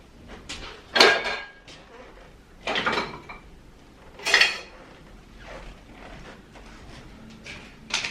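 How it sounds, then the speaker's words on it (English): A spatula that does not fit the container scrapes out the last of its contents in a few separate clattery scrapes and knocks at close range, with quiet pauses between. "See if we can get the last of it out with this spatula that does not fit."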